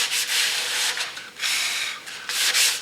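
Sanding a 1933 Ford Coupe body panel by hand: repeated scratchy back-and-forth strokes in an even rhythm, about four passes, close and fairly loud with no talking.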